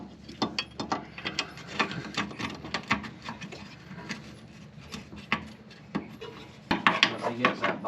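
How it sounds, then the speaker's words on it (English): A hand ratchet tightening bolts on a fuel tank box of a Dodge Neon race car, rapid clicking strokes in uneven bursts, close up, with some workshop handling and a voice in the background. "gotta put in 2 bolts right there"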